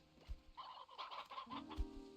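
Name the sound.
chickens clucking in video game Slime Rancher 2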